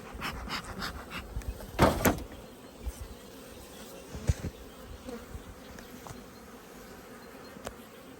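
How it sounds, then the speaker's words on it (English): Honey bees in a large nurse bee colony at an apiary hum in a dense, steady buzz close by, with a few soft knocks and bumps and no talking. "this colony was a big nurse bee colony really"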